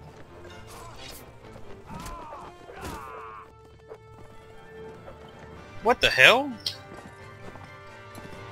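In the game Mount & Blade: With Fire and Sword, a horse's hoofbeats patter during combat, followed by a loud, shrill whinny near the end, with someone talking over the action.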